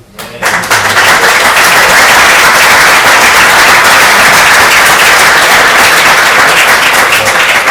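Loud, dense audience applause at a conference session on nonprofit entities, rising quickly after a brief murmur and holding steady for several seconds as many hands clap together.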